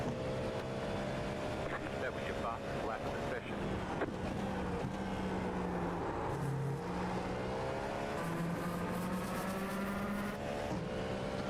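BMW GT3 race car engine at Watkins Glen in a racing video game, a continuous tonal engine whine that rises and dips through gear changes, carrying under a person talking.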